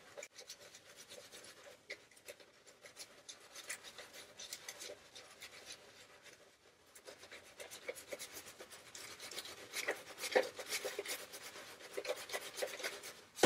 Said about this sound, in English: And then come in from the inside and rub along that curve.